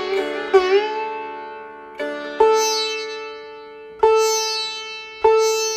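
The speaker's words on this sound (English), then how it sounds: "That is the sound of the taraf." Sitar notes are plucked four times, each followed by a long, bright, shimmering ring from the taraf sympathetic strings that slowly fades before the next pluck. The instrument is close and clear, with no voices.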